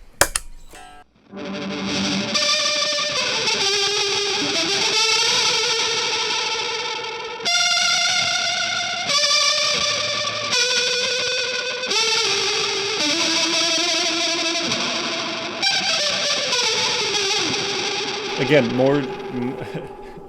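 An electric guitar plays through distortion, chorus and reverb pedals chained in an unusual order, producing sustained, wavering, heavily effected notes and swirling psychedelic tones in close, loud phrases with brief gaps between them.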